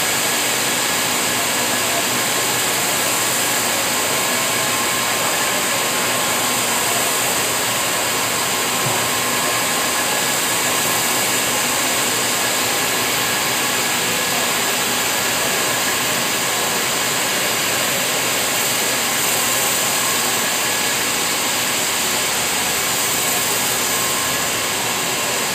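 Fabric-making machines run on a T-shirt factory floor, filling the space with a dense, unbroken mechanical roar and hiss that holds level from start to finish.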